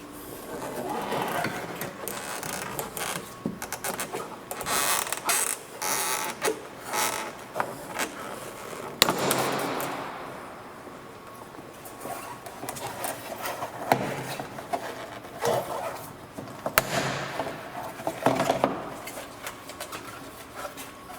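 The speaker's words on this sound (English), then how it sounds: "now we can pull off this plastic center trim piece" Plastic center trim is pried and pulled off the rear hatch door of a Toyota RAV4. Repeated creaks, snaps and scraping clicks of the panel come close up and in uneven bursts.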